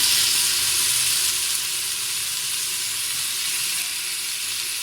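Tomatoes added to ginger garlic paste frying in a pan for goat leg paya curry, giving a dense, steady, loud sizzle that eases slightly over several seconds, with no one talking.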